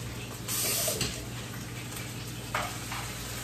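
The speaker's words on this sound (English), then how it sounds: "Try to stir that everything can be evenly distributed." Vegetables frying in a pan for a vegetarian dish, with a steady broadband sizzle and occasional brief scraping surges as they are stirred, no voices.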